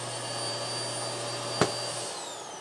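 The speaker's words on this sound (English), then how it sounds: "below that, we're going to have our road vac" The built-in floor sweep vacuum in a 2020 RPOD 192 travel trailer hums with a steady, close, loud whine. A single click comes partway through, then the tone shifts slightly. No one speaks.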